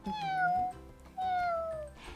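A voice imitates a cat during a kindergarten activity, with two drawn-out meows separated by a short pause, close and clear.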